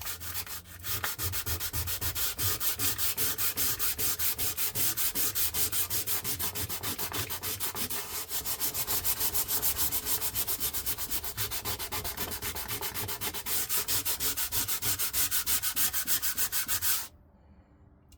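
Steady rhythmic scratching of sandpaper rubbed back and forth by hand, without a sanding block, over a truck camper countertop, continuous and close, stopping abruptly near the end.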